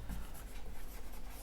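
Pen writing on paper during a lesson on bills of exchange and promissory notes, a close soft scratching and rubbing that runs on without pause and without talk.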